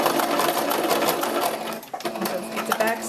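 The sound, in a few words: sewing machine stitching a fabric hat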